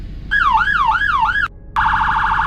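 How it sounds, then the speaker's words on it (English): A police car siren in the Greenville driving game rises and falls in a loud wailing sweep, cuts out for a moment, then switches to a fast, urgent yelp. "So here's your police lighting and your sirens."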